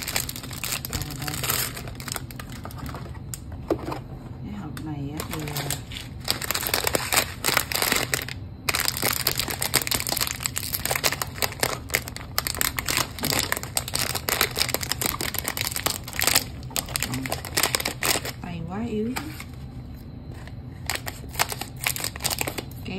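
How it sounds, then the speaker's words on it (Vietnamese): A self-heating rice meal pack is torn open and handled, making close, bursty crinkling, ripping and rustling of plastic packaging in irregular bouts, with a brief voice now and then. "bây giờ mình sẽ xé cái gói tự sôi ra trước."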